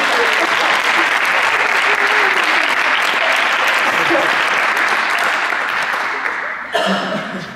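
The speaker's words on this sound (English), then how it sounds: "Give them all a big round of applause." Loud, sustained applause from a high school post-prom audience, many hands clapping in a dense roar with some scattered crowd noise and a brief bump near the end as it starts to fade.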